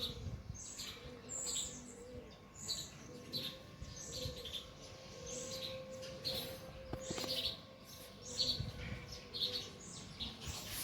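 Several small birds, including mynas, chirp and tweet in quick, scattered bursts at a moderate distance against a quiet outdoor background near farmland.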